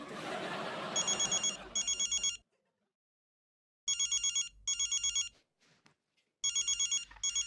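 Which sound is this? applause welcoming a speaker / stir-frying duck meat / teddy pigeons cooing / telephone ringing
telephone ringing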